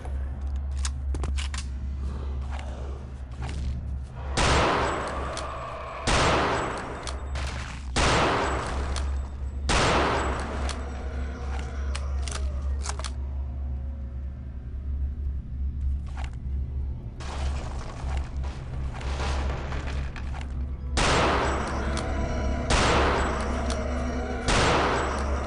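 Gunfire in the video game Return to Castle Wolfenstein, with loud repeated bursts of shots spread across the clip over a constant droning game background.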